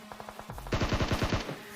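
Gunfire in a mobile shooter game: a quick, light burst of automatic fire, then a louder, denser rapid volley of about a dozen shots, close and crisp, with no talking.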